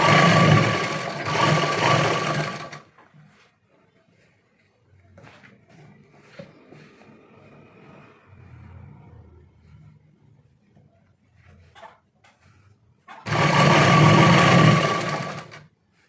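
A sewing machine stitching elastic onto trousers whirs loudly in two close bursts at the start and end, separated by a long quiet gap with faint handling noises.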